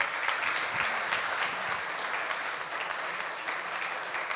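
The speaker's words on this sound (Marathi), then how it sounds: "एकदा जोरदार टाळ्या." Audience at a Marathi awards ceremony breaking into a loud, sustained round of applause honoring Nature Club of Nashik members, dense clapping from many hands throughout, a faint voice underneath.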